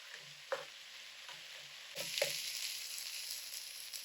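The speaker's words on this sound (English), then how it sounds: "Now we stir everything up together, and we want the rice to toast up a little bit with the seasoning" Rice and seasoning for a blackened shrimp and andouille jambalaya are stirred and toasted in a hot pan, giving a steady close sizzle broken by a few scraping strokes of a spoon.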